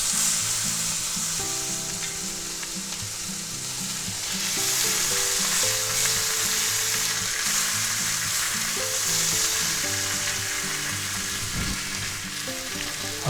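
Pork tenderloin edges sear in a hot pan, a steady loud sizzle with frying crackle running throughout, joined by low tonal kitchen hum, with no voices.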